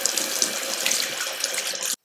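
A bathroom tap runs steadily for about two seconds, close and alone, to wet a small makeup remover cloth, then cuts off abruptly.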